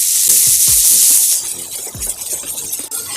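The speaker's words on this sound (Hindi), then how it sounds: "प्याज को हमें गोल्डन ब्राउन होने तक भून लेना है।" Chopped onion sizzles in a hot pan for a Hindi-style methi malai paneer, a bright hissing fry with soft scraping stirs and clacks, loud at first and then settling into a quieter crackle.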